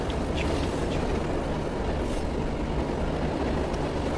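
A Rajdhani Express train in a railway video game rolls along with a steady dense rumble and faint wheel clatter, continuous and fairly loud, with no talk over it.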